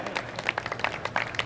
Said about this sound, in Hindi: अच्छा है कि हम यहां खुलकर ताली बजाएं।